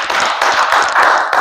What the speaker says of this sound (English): Can you clap for Brother Gabriel?